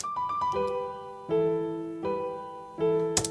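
A sustained piano melody of long held notes changing every few beats, playing Sonic music, steady and clear with no voices.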